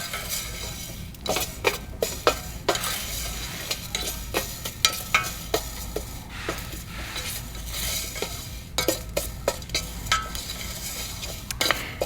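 Fenugreek seeds roasting in a pan, dry rustling and hiss broken by frequent sharp scrapes and metallic clinks of a spoon stirring against the pan, irregular and close throughout.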